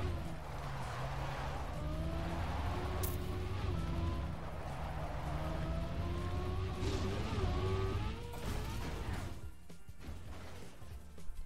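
A car in the TrackMania 2 Stadium racing game drives with a steady engine whine whose pitch rises and falls through shifts, loud and continuous, with a brief clatter partway through and the sound thinning at the end.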